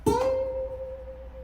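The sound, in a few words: ukulele slide with vibrato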